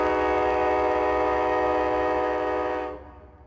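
A train passes with a loud, sustained horn blast layered over rumbling rail noise, holding steady before cutting off abruptly near the end and leaving a fading low rumble.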